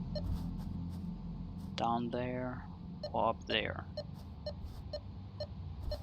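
Steady, evenly spaced electronic beeps sound in a video game and keep repeating beneath a voice talking.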